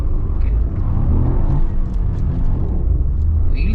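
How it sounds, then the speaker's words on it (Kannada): A Maruti Brezza with its 1.0L turbo engine launches hard with traction control off, a loud, steady low rumble of engine and road noise sustained throughout. "ವೀಲ್ ಸ್ಪಿನ್ ಮಾತ್ರ ಕ್ರೇಜಿಯಾಗಿ ಆಗುತ್ತೆ ಗೈಸ್"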